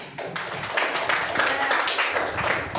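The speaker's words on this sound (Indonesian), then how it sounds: "Tepuk tangan untuk kelompok 3" A school class applauds a student group after a discussion: a dense, steady patter of many hands clapping, fairly close, with a teacher's voice speaking over it.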